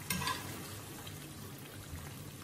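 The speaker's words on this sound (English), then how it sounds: "And we'll just give that a quick stir." Green onions being stirred into a pot of Filipino bachoy as it cooks, giving a steady low bubbling simmer with a brief stirring scrape at the start and no talk.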